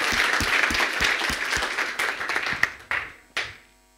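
An audience at a lean manufacturing seminar applauds a speaker being introduced, with dense, lively clapping that thins into a few scattered claps and stops after about three and a half seconds.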